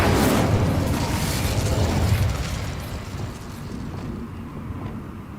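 An Incendio fire spell from Hogwarts Legacy goes off in a heavy, roaring blast that holds strong for about two seconds, then fades into a softer crackling rumble.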